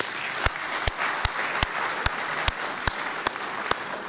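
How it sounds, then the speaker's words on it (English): Audience at a growers' meeting claps to thank the speakers, a steady wash of many hands with sharp louder claps landing at a regular rhythm on top, continuous for the whole stretch. "we'll clap hands to thank the speakers."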